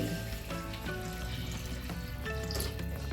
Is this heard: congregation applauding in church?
no